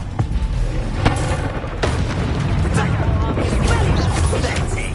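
A Descendo spell strikes in Hogwarts Legacy with a heavy booming impact and crash, set against a loud, dense wash of combat noise and several sharp hits.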